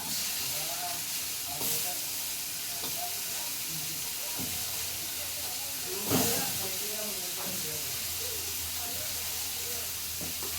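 Sliced onions with bitter gourd fry in a pan, making a continuous close sizzle and hiss with occasional stirring knocks.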